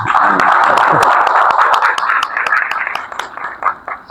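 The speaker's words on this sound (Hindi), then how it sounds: "तालियां बजा के" Audience applause at the close of a PMI seminar session, a dense burst of clapping that starts loud and gradually thins out over a few seconds.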